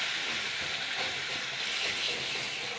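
Jackfruit seed curry with batter gives a steady, loud, hissing sizzle close up as it is stir-fried, with no pauses.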